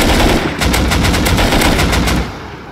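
AK rifle fired in the video game Rust, a loud rapid burst of automatic gunfire with evenly spaced shots for about two seconds before it cuts off.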